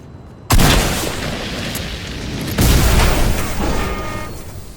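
Fortnite gunfire plays in two heavy booming bursts, the first sudden and loud, the second stronger still. Each blast leaves a long rumbling tail that fills the clip, and no voices are heard.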